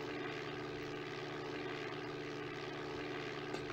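Airplane engine in the Flight Simulator video game, a steady, loud propeller drone that holds evenly throughout with no talk over it.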